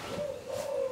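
Spotted dove (tekukur) cooing at night, a soft steady low coo held through the second, close and alone without talk.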